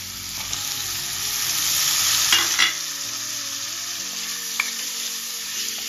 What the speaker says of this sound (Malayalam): ഇതിലേക്ക് കറിവേപ്പില ചേർക്കുക.